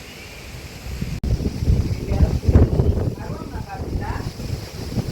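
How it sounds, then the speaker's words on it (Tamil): Strong wind buffets the microphone in gusty, rumbling bursts outdoors in a village during outdoor cooking, with voices talking faintly underneath. "ஒரே காற்றுல நிற்கவே மாட்டேங்குது. ஒரே அலை காற்றா அடிக்குது."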